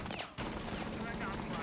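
Gunfire in the video game Rainbow Six Siege, a dense, rapid stream of shots that carries on nearly unbroken after a brief dip, loud and close, with a voice mixed in.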